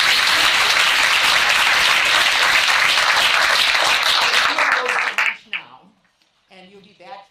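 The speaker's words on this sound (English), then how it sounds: "Another round of applause for" Audience applause in a conference session, dense continuous clapping that stops abruptly after about five seconds, followed by someone speaking.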